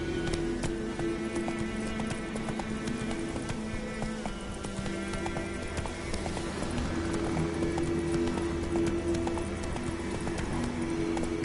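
Geralt's horse Roach galloping in The Witcher 3, rapid rhythmic hoofbeats drumming steadily and close over a low sustained background tone.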